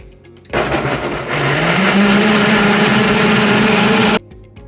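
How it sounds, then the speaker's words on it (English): A kitchen blender purees salsa verde ingredients, kicking on abruptly with a loud, steady whirring roar that rises in pitch as the blades speed up, then cuts off sharply after about four seconds. "now that we've got all of our ingredients in the blender, we're just going to blend it up"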